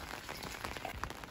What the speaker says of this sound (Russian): Дождик начался обещанным